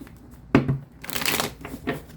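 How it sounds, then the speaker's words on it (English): Tarot cards shuffled close by: a sharp riffle, then a longer crisp flurry of flicking cards and a final short burst. "One last shuffle"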